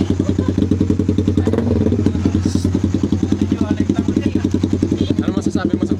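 Motorcycle engine running with a fast, steady throbbing exhaust pulse, close and loud throughout, with brief voices faintly over it near the middle.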